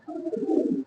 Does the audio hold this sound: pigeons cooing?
yes